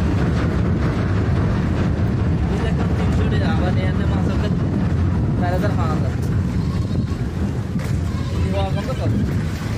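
A trawler's engine rumbles steadily on the water amid heavy wind buffeting, with people talking over the noise.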